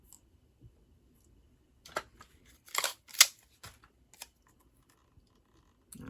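Scissors snipping through a paper card piece on a craft table, a handful of short crisp cuts clustered near the middle, close and quiet, with near-silence around them.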